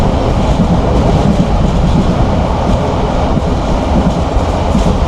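The Probal Express train rumbles steadily along the tracks between Cox's Bazar and Chittagong, Bangladesh, loud and continuous, with a dense rattling roar and no voices.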